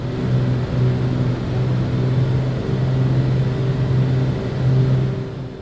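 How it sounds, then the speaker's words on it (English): Twin piston engines of a simulated Beechcraft Duke in the Black Square Dukes flight simulator drone at cruise, a steady loud low hum with a faint pulsing as the engines sit at slightly different speeds, alone and without talk. "Now in cruise, there are different sounds that you'll be able to hear depending on the way you set the engine."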